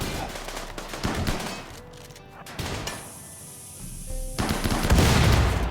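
Turrets in RimWorld fire on raiders near a Biotech doomsday vault, with rapid bursts of gunfire cracking and rattling, a brief lull, then a heavier sustained volley with explosive crashes toward the end, loud and close.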